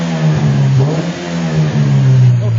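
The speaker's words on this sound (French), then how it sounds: "Donne quelques coups d'accélérateur pour la forcer à gauche." A car engine in a workshop revved by several accelerator blips during an oxygen sensor check, loud and close, the pitch rising and falling in smooth surges with no talk over it.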